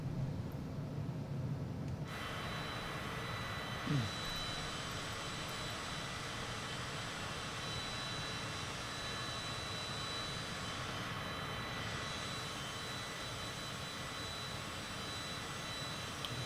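A Cessna's engine in Microsoft Flight Simulator drones in a constant, steady hum that fills the whole stretch, with no talk.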